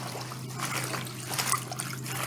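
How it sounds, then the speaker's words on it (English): Chopped collard greens drop into a sink of water with a close, continuous splashing trickle lasting a couple of seconds, no talking. "So pour them in the sink"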